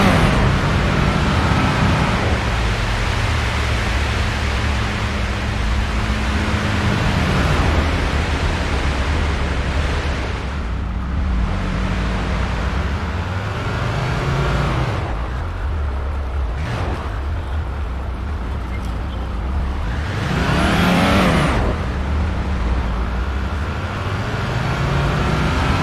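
A car in Police Simulator drives fast through downtown streets, making a continuous loud road roar with a low engine drone that shifts in pitch now and then as it speeds along, without speech.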